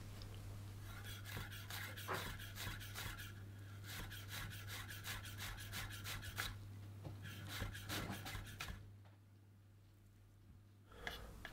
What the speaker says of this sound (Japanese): よく切れる包丁で切り身を入れてこのような感じに細かく包丁を動かしてみじん切りにしていきます。